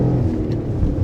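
Alfa Romeo 147 GTA with the V6 Busso engine on the move, a loud, steady low engine rumble heard close up and without speech.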